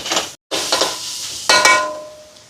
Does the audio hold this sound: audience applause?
no